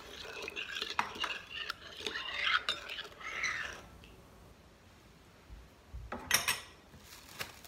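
Yeast, sugar and milk being mixed with flour, oil and salt for a stuffed dough, quiet clinks and scrapes of a utensil against a bowl in bursts, then a pause and a brief final rattle, close and with no voices.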